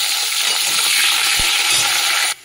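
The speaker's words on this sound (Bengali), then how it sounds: "ওর মধ্যে যে আলু দিয়ে দেবো, যে আলু কেটে রেখে দিয়েছিলাম ডুম করে" Diced potatoes frying in hot oil with cumin, a loud, dense sizzle that sounds close and continuous, with one faint low knock partway through, then cuts off abruptly near the end.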